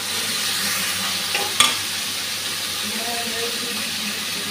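Carrots and peas stirred in a frying pan for egg chow mein, a steady soft sizzle with a sharp clack of the spatula against the pan partway through.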